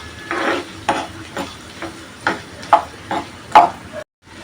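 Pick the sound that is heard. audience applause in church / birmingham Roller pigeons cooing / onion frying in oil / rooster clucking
onion frying in oil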